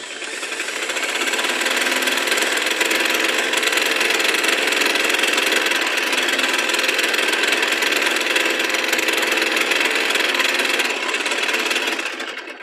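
Sewing machine stitching cloth on a blouse back piece, a continuous rapid mechanical whir running evenly at close range for about twelve seconds before stopping.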